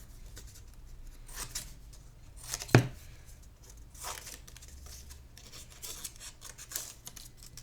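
Scissors snipping white paper into tooth shapes for a children's art lesson, with soft crinkling and faint rustling around one sharp, distinct cut, close and quiet, no voices.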